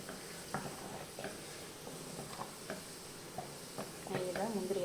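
A spoon stirs salted bisibelebath in a pot, with soft scraping strokes over a low sizzle and hiss, growing a bit louder near the end.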